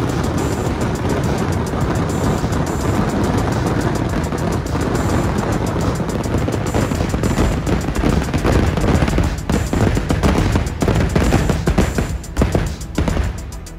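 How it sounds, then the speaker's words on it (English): Fireworks at the Thrissur Pooram festival in Kerala burst in a long, loud barrage of rapid cracks and booms, dense and continuous, building into sharp crackling volleys toward the end. "The main fireworks begin in the early morning of 7th day."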